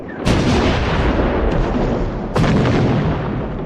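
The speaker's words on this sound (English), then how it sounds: "The heavy artillery made the Bulgarians crawl deep into their shelters" Heavy artillery fire from a First World War battle, with two loud, close booming blasts a couple of seconds apart, each followed by a sustained roar and rumble of gunfire.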